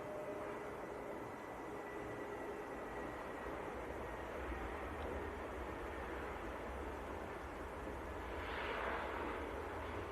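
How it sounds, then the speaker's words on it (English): EasyJet Airbus A320neo arriving from Innsbruck at Manchester Airport, a steady broadband jet roar held throughout at moderate distance, swelling slightly louder near the end. "That is EasyJet from Innsbruck. A320 Neo."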